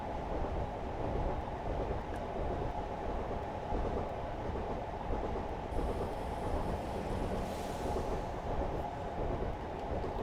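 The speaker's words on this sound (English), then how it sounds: "the sound of the train on the tracks?" Train wheels rolling over jointed track in a train simulator video game, a continuous rumble with rhythmic clickety-clack over the joints, steady and fairly loud with no talk.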